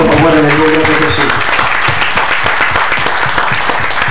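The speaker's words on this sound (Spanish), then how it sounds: "Den un aplauso al Señor, por favor, en el nombre de Jesús" A church congregation bursts into loud, dense applause, with clapping filling the room from start to finish and a voice speaking briefly at the very beginning.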